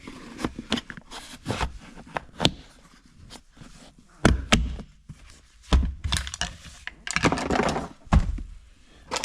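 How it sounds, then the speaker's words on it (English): Plastic trim panels are pried off the third-row interior of a Honda Odyssey with trim tools. Close, irregular snaps, thunks and scraping clicks come in uneven bursts, with some louder pops. "Let me see if I can pop these trim panels off."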